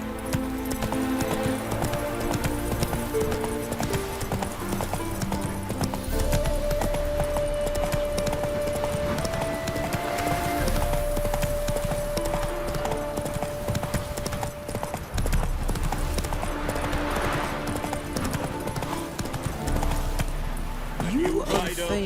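Horse hooves gallop in a steady clip-clop rhythm through Witcher 3, close and continuous under layered game music and ambience, with speech over parts of the ride.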